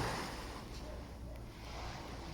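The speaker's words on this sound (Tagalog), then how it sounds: "Irinig mo lang yung hampas ng alon dito sa tabi." Soft, distant wash of ocean waves breaking along El Nido front beach in the Philippines, a faint continuous surf hiss with light wind and no voices.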